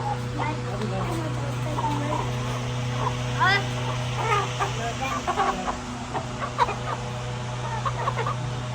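Chickens and a rooster cluck in scattered bursts around a rural mud house in Pakistan, moderately close, while people talk and a low steady hum continues underneath.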